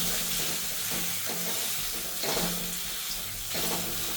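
Mava frying in ghee for gundar pak gives a steady sizzle, with periodic scraping stir strokes close by and no talk.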